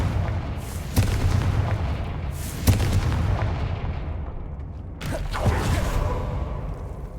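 Confringo fire spell blasts in the Hogwarts Legacy video game: loud booming impacts near 1, 2.7 and 5 seconds over a dense rumbling game soundscape with creaking mechanisms.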